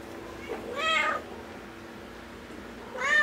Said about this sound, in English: These are the little sort of probably 4 week old kittens with mom.